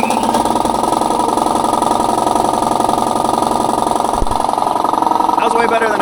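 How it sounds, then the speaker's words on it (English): An air compressor's engine runs in cold weather at a loud, steady, close idle with a fast, even chugging rhythm throughout. "I need to get this thing started, this air compressor."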